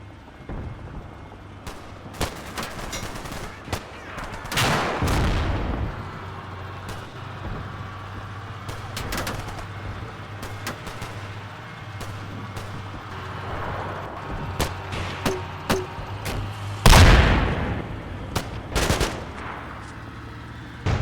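Platoon gunfire in the Combat Mission Cold War game: scattered bursts of machine-gun and rifle shots, mid-distance and irregular, with a few louder cracks and a constant low vehicle engine rumble underneath.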